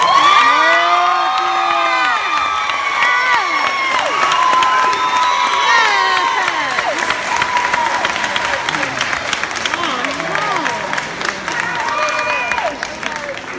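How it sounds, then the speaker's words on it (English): A large crowd at a graduation ceremony breaks into loud applause, cheering and whoops, with children's shouts and excited voices rising over steady clapping for the whole stretch. "Give a round of applause and welcome our valedictorian, Mr. Tommy Black."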